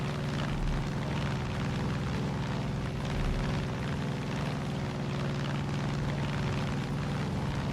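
A propeller airplane flies in Far Cry 5 during an air raid mission, its engine drone a constant loud hum with steady tonal whine that persists unbroken for several seconds, no voices.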